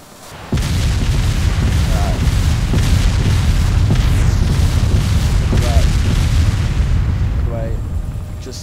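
Attack helicopter in ArmA 2 firing its minigun during a beach assault, a loud sustained roar of continuous fire and booming impacts lasting several seconds, fading slightly at the end.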